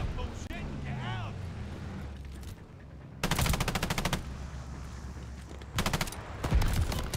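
Video game gunfire rips out in two loud, rapid automatic bursts, one long volley in the middle and a shorter one near the end, with engine-like rumble and voices talking in between.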